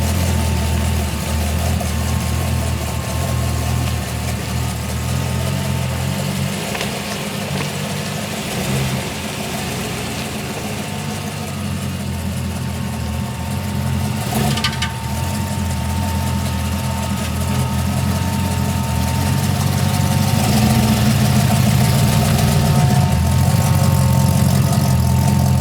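A Ford car engine hums steadily as it drives around the block, a continuous mid-low drone with slight swells as it accelerates, heard alone and fairly loud.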